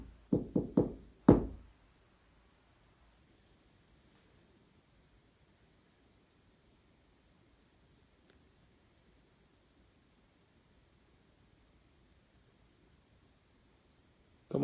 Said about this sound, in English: Can you knock on a wall?